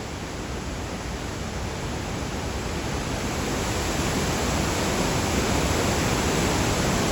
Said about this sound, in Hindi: और देखो काली नदी का प्रभाव देखो आप, देखो इसको आओ स्टैटिक करके आपको इसकी धार दिखाता हूँ।